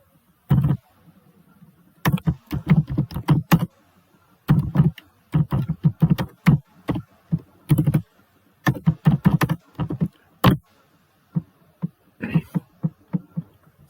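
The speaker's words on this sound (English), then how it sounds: "See, when I'm typing this," Someone types a simple C program into the Dev C++ editor on a computer keyboard: close, crisp key clicks in irregular bursts and short runs separated by brief pauses, with no talking.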